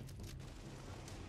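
Explosions of tanks being blown up during a firefight in the video game The Division, a dense continuous low rumble of booms lasting throughout, loud and close with no distinct separate blasts.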